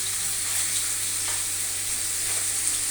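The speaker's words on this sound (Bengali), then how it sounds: "এই যে মাছ ভাজা হচ্ছে" Fish from a pond frying in a pan: a steady, dense sizzle with bright hiss throughout, close by and continuous without breaks.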